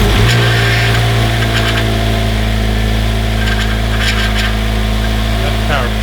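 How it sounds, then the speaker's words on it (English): A freshly built Mazda Miata with a 2.5 engine runs in neutral, a loud steady idle with a low mechanical drone and a whining power steering pump, close by, with brief voices in the background. "That's power steering making that noise"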